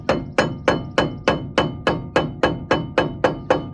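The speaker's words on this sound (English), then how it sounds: "I am going to hit it with a hammer." A hammer strikes a metal car part on a 1974 Ford about ten times in a steady, even rhythm, each blow sharp and ringing briefly, close and loud.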